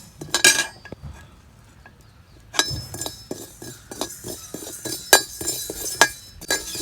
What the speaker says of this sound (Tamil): வெந்தயமும் கடுகும் போட்டு இதில் கொஞ்சம் வறுத்து நுணுக்கி கொட்டணும்.